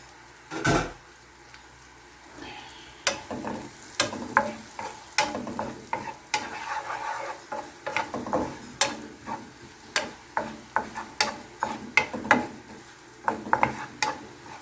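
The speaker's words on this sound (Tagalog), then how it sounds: "ilagay ko po yung yung ating bawang" Garlic sautés in butter in a pan, a soft, low sizzle under repeated scraping stirs of a utensil that land in an irregular rhythm of clicks and taps, close and fairly quiet.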